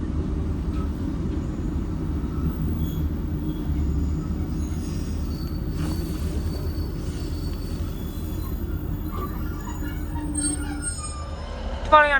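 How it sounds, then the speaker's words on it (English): A Northern passenger train pulls away from Levenshulme station, its deep rumble and rail noise holding steady and loud throughout, with a brief wheel squeal rising near the end. "Departing out now is the 11:26 Northern service from Manchester Piccadilly to Hazel Grove."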